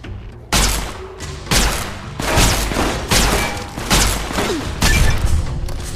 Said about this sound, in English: Let's give it a quick shot on this lobotomite.